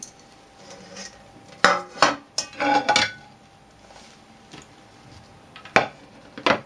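An apple cinnamon cake is turned out of its baking tin onto a serving dish, giving a few sharp clatters and knocks of metal and crockery among quieter handling sounds, no voices.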